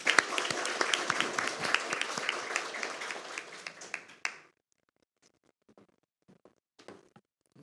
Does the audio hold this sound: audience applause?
yes